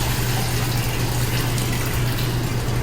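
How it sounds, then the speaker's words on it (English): Water drains steadily out of a hot tub through a siphon hose, producing a constant close gurgling rush with a low churning hum and no talk. "Drain the water out."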